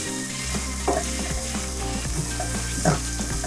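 Garlic, shallot and ginger sizzling in a hot pan for a Thai prawn and butternut squash soup, a close, steady crackle of frying with occasional clinks and stirring scrapes, no talking.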